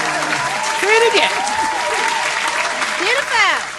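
An audience claps continuously at a lively hosted event while a voice talks and exclaims over the applause, with whoops and calls rising and falling above the steady clapping.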